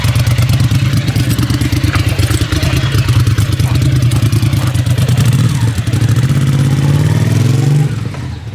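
A motorcycle fitted with Mikuni TDMR40 carburetors revs loudly and close, its engine pulsing steadily with rapid firing before it eases off at the end.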